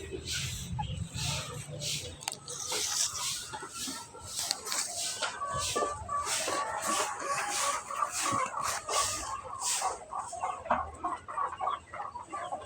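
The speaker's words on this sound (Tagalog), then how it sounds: "Ang laking manok." Large chickens clucking and calling on a farm in Tagaytay, a busy, continuous flock chatter with some louder calls, heard close by under intermittent people talking.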